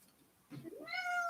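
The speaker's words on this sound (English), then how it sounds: "Kitties are the best." A single cat meow, rising and drawn out, close and fairly soft, over a quiet indoor background.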